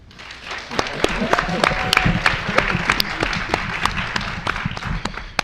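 Studio audience applauding the teams at a Texas quiz show semi-final, a dense patter of claps with sharp individual hits standing out, crowd noise and voices mixed in.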